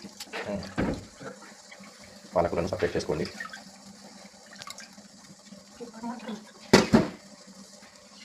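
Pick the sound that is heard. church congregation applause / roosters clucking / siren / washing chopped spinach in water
washing chopped spinach in water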